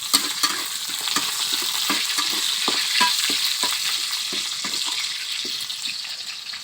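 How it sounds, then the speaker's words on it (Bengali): Onions fry in a pan, a steady bright sizzle broken by frequent rhythmic scrapes and clinks of stirring, close and loud with no talking. "যেহেতু পেঁয়াজগুলো ভাজা ভাজা হয়ে গেছে প্রায়"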